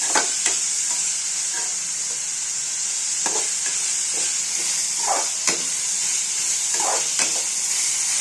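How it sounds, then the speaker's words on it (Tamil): Chopped onions frying in a pan for Tamil-style dried fish curry (karuvattu kuzhambu), a steady bright sizzle with intermittent scraping stirs of the spatula, close and continuous without any talk. "அப்புறம் கட் பண்ணி வச்ச வெங்காயத்தை போட்டுட்டு நல்லா பொன்னிறமாக சவக்கிற அளவுக்கு வதக்குறோம்"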